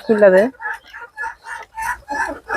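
Farm chickens call, one loud drawn-out squawk up front and then a string of short clucks close by.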